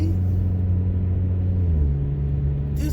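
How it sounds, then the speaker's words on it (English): A tow truck and an SUV drive along a road, heard as a steady, loud low engine and road rumble from inside a vehicle, with a slight shift in pitch near the end. "Is the tow truck trying to beat the SUV?"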